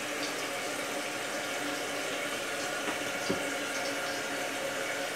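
A dual flush toilet tank refills with water in a steady, continuous rushing hiss, moderately loud and close, with a faint knock partway through and no talking.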